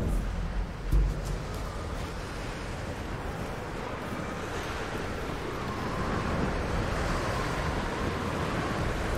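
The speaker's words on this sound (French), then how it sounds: "Mais il y en a du vent" Wind in the Tomb Raider video game blows as a broad, continuous rushing roar, steady and fairly loud throughout, with a brief low thump near the start.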